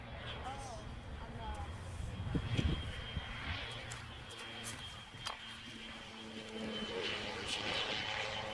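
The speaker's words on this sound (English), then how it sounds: "Oh, here's a Turbine Mentor." A Turbine Mentor aircraft flies in to land at Oshkosh during the mass arrival on Runway 36, giving a steady engine drone at moderate distance under a constant crowd and airfield background, with voices faintly present.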